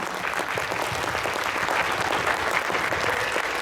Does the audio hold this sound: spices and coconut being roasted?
no